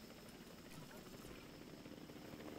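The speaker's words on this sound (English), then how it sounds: "Surely it's not gonna take like 5 helicopters to transport all these compies." In Jurassic World Evolution 2, a helicopter hauls dinosaurs with a faint, continuous rotor whir and engine hum, steady and low in level beneath a quiet game soundscape.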